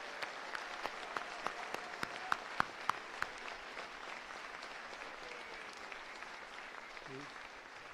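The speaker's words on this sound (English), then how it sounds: "Give yourselves one more round of applause." Applause from an assembly audience at a state legislative session closing, a steady wash of clapping with a few sharp louder claps standing out early, fading to a softer sustained patter.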